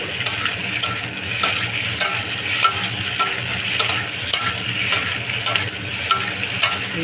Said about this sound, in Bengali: ডিমটা ফ্রাই করবো ভালো করে।